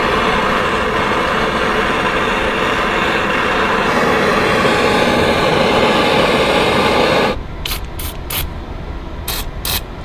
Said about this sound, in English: So we're gonna put some heat on this sucker.